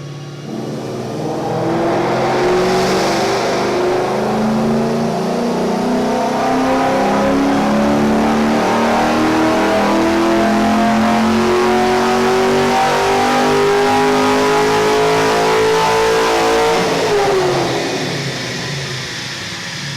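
A 2009 Ford Mustang GT with a custom tune revs on a dyno: the engine climbs in one long, smooth, loud pull for about fifteen seconds, then drops off sharply, with no talking.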